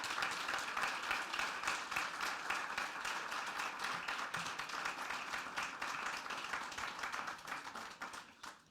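An audience at a Casa de México event in Madrid gives sustained applause for a mariachi performance, an even patter of many hands that fades out near the end.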